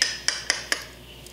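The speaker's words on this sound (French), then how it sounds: "Troisième manière de couper votre plantain." A knife cuts a plantain into rounds on a board, four sharp, evenly spaced taps close by, each slice ending in a crisp click, then quiet.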